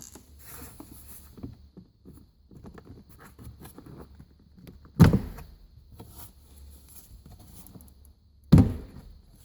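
Glove box hinge clips in a 2018 Mazda 6 release with two distinct plastic clunks a few seconds apart, amid quiet rustling and handling of the glove box.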